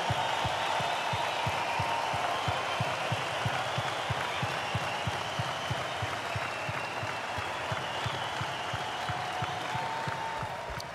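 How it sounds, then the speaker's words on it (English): An arena audience applauds in tribute to a man's life, sustained clapping from a large crowd that holds steady and fades slightly near the end. "So I'd like all of you to join me in an applause for a great man and a life well lived."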